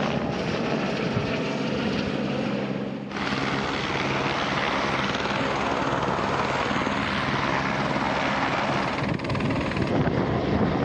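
Aircraft departing a remote ice camp on a 40-minute flight back to town, its steady loud engine and rotor drone filling the scene, with a brief dip near the start before the roar holds constant.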